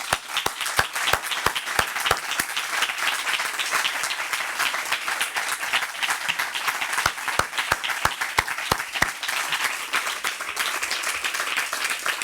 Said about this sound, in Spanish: Al que aplaudo.